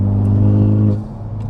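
Car running an E-Blend tune revs briefly, a loud, close engine note with a strong low hum that holds for about a second and then drops off.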